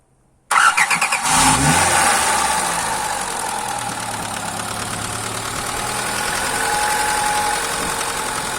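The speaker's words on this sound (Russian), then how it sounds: "Смотрите, с полтычка заводится." A freshly overhauled Daewoo 1.4 engine cranks briefly after a moment of silence, catches quickly and revs up, then settles into a steady, close idle.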